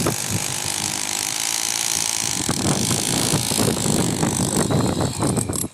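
Hot wind blows sand near a sand hill, producing a loud, steady roar of wind buffeting the microphone that becomes rougher and gustier partway through.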